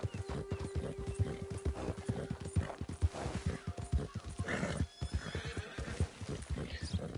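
Horse hooves in the video game Red Dead Redemption 2, a steady rapid clip-clop of galloping, close and fairly loud, with occasional whinnies and a voice talking over it.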